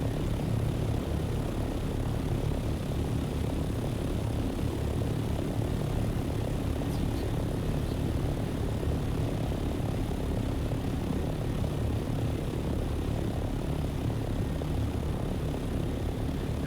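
A helicopter flying in Dune: Awakening gives a constant, moderately loud engine and rotor drone that stays even and unbroken throughout, with no talking.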